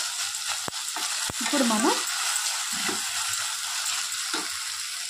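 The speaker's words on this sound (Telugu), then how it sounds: "ఈ వంకాయలు బాగా వేగిన తర్వాత చూసారు కదా, ఇలా వేగే కదండి." Eggplant fries in a pan of hot oil for an onion-stuffed curry, a steady close hiss and crackle with a couple of sharp taps from a spoon, while a voice speaks briefly over it.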